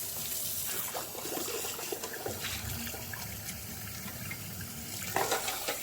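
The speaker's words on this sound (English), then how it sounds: "I'm going to pour some of this out and turn on the cold water." Cold water running from a kitchen tap into a pot of just-boiled eggs, a steady hissing rush close by with small splashes and clinks, no talk.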